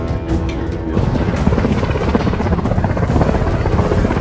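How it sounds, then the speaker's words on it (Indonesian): A helicopter in flight, its rotor thumping and engine whining steadily and loudly for several seconds with no talk. "Joker dan Raptorman pun berangkat menggunakan helikopter"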